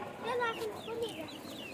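Chickens on a rooftop garden cluck in a few short, rising calls nearby, with a faint voice in the background.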